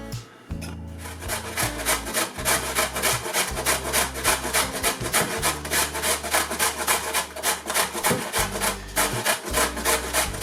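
Food is rubbed rapidly back and forth over a grater while preparing turkey curry, a close, loud, continuous rasping rhythm of quick scraping strokes with no talk.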